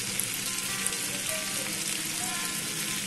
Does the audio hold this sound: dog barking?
no